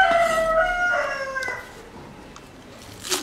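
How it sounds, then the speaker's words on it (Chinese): A rooster crows loudly nearby in a rural Xiangxi farmyard, one long drawn-out cock-a-doodle-doo, followed by quieter background noise and a brief cluck near the end. "这个大公鸡为什么老是要叫啊？"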